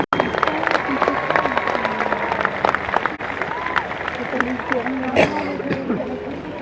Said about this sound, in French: vos applaudissements pour Éric Perron, le skipper de Comité